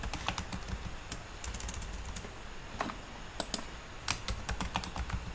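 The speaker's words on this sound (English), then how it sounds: "you have to type" Rapid typing on a computer keyboard while entering database insert statements, a close, continuous run of crisp key clicks with a few harder taps and no speech.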